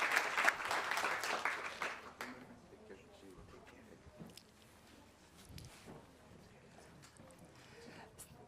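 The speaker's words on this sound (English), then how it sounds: "can we please give the Director General a round of applause?" Applause for the Director General at a climate resilience event, strong clapping for about two seconds that quickly thins and fades, followed by quiet room noise and faint voices.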